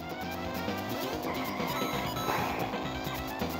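Karts drift and skid in Mario Kart Super Circuit during a 50cc Blitz Cup race, the tire screeches running continuously beneath busy, loud game music.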